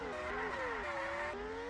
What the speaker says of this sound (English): Here comes Lewis Hamilton down to the final corner.